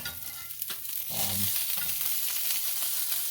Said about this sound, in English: So I'm cooking this fish just nice and evenly, gentle, nothing too, you know, nothing's too crazy.